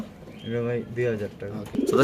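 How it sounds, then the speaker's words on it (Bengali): Silver Gorra pigeons, large birds kept in a pigeon market, coo in a few soft repeated phrases close by while someone talks over them. "সিলভার গররা কবুতর মাসাল্লাহ অনেক সুন্দর অনেক বড় সাইজের"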